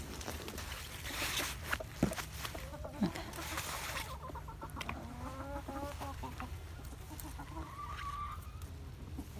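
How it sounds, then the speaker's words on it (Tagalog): Chickens cluck in a home garden, a run of short, repeated clucks and calls rising in the middle and later part, steady and fairly close over a constant low background hum. "kita nyo na may mga manok ko"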